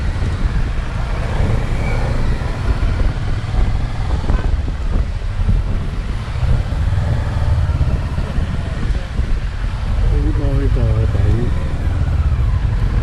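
Motorcycle climbing a mountain road near Zhongshan, a continuous engine drone under heavy wind buffeting on the microphone, with some faint voice-like sounds mixed in.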